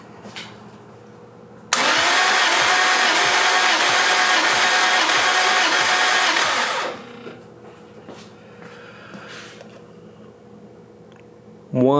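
The engine of a turbocharged Lexus IS300 cranks over on its starter during a compression test, a loud, steady whirring with regular pulsing beats for about five seconds, then stops, leaving quiet background hum.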